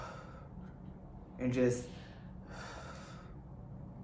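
Deep, slow breaths drawn in and let out as part of a calming breathing technique by a pool, one loud inhale-exhale followed by a softer second breath, with brief talk at the start.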